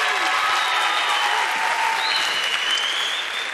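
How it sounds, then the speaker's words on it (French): A pageant crowd at the Miss Guyane 2018 contest applauds steadily for a contestant, dense clapping loud and unbroken from start to finish, with a faint tonal whine running through. "Applaudissez-la bien fort, s'il vous plaît."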